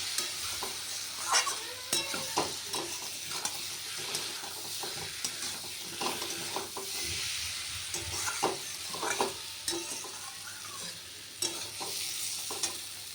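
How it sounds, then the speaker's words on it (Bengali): Potatoes and eggs sizzle in spiced masala in a pan, with a constant frying hiss broken by the scrape and clatter of a spatula stirring at close range. "এবার আলুটা ডিমটা দিয়ে দিলাম কষিয়ে নিয়ে জল দিয়ে দেবো"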